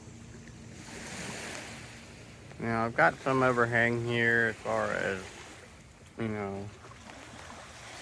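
Wind rushes steadily at a lakeside campsite at Caesar's Creek beside a trekking pole tent, a broad, near whooshing bed that continues while someone talks over part of it.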